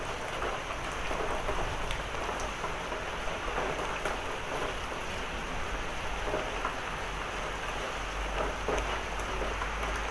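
Hail and rain fall hard during a severe thunderstorm. The downpour hisses steadily and loudly, with scattered sharp impacts throughout and no voices.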